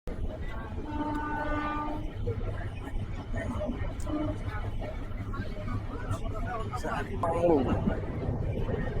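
Packed general coach of the Janmabhoomi SF Express: a constant rumble of the moving train under a dense babble of passenger chatter, with a brief squeal of the wheels near the end.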